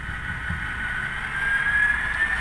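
A model railroad locomotive's sound decoder revs from idle to a steady, loud droning engine note, a sustained throbbing hum that rises slightly in intensity.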